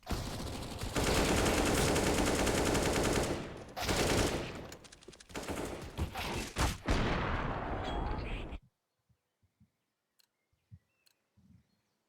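Rifle fire in a professional CS:GO match on the Inferno map, with loud sustained automatic bursts from several guns overlapping for about eight seconds before breaking off into near silence with a few faint distant pops.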